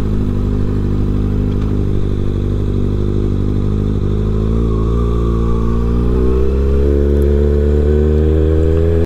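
Kawasaki ZX6R motorcycle being ridden, a loud close engine drone with wind noise that slows and settles toward idle as the bike pulls in to park.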